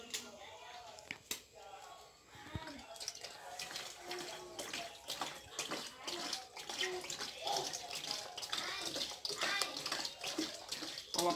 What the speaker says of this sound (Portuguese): Agora vou colocar o óleo, tá?